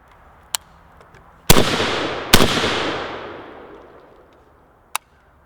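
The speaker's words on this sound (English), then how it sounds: "So we're going to shoot a few rounds here" Two sharp, loud gunshots from a Zastava M92 PAP AK short-barreled rifle fired outdoors in early morning, each followed by a long rolling echo that fades over several seconds, framed by a few fainter distant pops.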